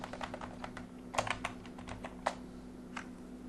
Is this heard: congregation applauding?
no